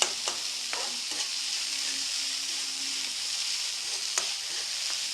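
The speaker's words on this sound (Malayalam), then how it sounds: "നമുക്കിതൊന്ന് വഴണ്ടി കിട്ടണം." Colourful vegetables saute in a frying pan, giving a steady close sizzle and frying hiss with a few scraping stirs of the spoon, and no talk.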